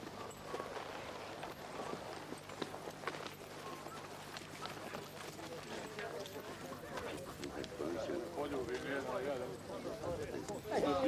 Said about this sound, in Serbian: Gospodo svatovi, odjašite konje!